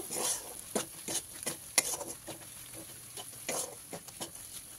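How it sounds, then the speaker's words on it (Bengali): Ground turmeric, Kashmiri chilli and other powdered spices fry in a pan for a soybean dopiaza, with a low sizzle beneath repeated scraping strokes of a spoon, steady and fairly close, no talking. "দিয়ে এবারে মশলাটাকে ভালো করে কষিয়ে নেব।"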